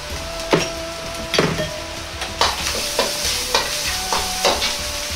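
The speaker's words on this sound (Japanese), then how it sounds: "このくらいしっかりと炒めることが大切です" Ground meat stir-fried with doubanjiang chili bean paste, garlic and ginger in a pan: a loud, close sizzle broken by regular scraping strokes of a spatula, roughly one every second, with no voices.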